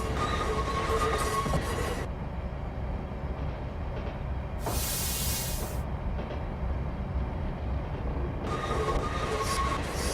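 A San Francisco–Sacramento interurban electric train in the Train Sim Classic video game, running with a steady rumbling roll and track noise, a brief bright hiss partway through, with no talk.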